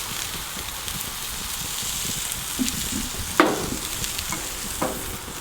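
Fish wraps cooking on an outdoor grill, a constant bright hiss of sizzling with a few soft pops and one sharper crackle, steady and fairly loud with no voices.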